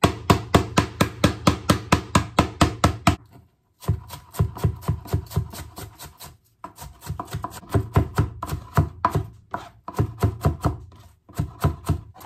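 Rapid, regular thuds of a knife blade smashing aromatics on a cutting board while preparing duck hotpot, several bursts of fast repeated blows separated by brief pauses.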